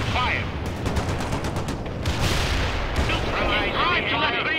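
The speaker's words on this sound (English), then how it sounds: "Lock and fire." Gunfire and artillery rumble in the video game World in Conflict, a dense steady barrage of booms and rapid shots filling the mix, with radio-style unit voices heard over it.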